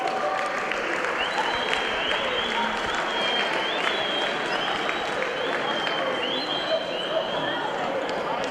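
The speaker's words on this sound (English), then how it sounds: "Applause for the coach, ladies and gentlemen." Sustained crowd applause fills an indoor venue at a basketball club championship final, steady and dense with scattered cheers and an amplified announcer voice over it.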